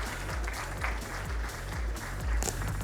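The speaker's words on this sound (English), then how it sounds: "Round of applause for her, everyone." Audience applause at the Smart Space Awards 2025 ceremony, a continuous wash of clapping of moderate loudness with low rhythmic thumps underneath, no speech over it.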